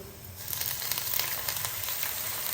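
Water splashes into frying mashed green chili masala in a pan for Punjabi aloo gobhi, bursting into a loud, steady close-up sizzle after a brief quieter moment, with no talking.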